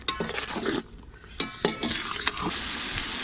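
Chicken and yogurt frying in a pot with steady sizzling, broken by several sharp scraping stirs of a utensil against the metal, close and fairly loud with no talking.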